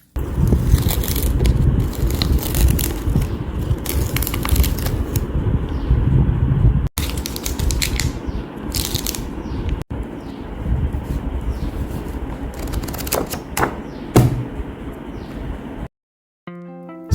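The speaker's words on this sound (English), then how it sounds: "here's a little ASMR of me ripping the sticker off and stuff" Sticker being ripped off a new sketchbook, close and crisp: repeated scraping, peeling and crinkling sounds in irregular bursts, with brief gaps and a soft tonal blip at the end.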